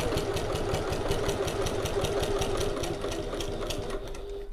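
Sewing machine running steadily on its longest basting stitch, a continuous close whirring with a fast even needle rhythm throughout, no talk.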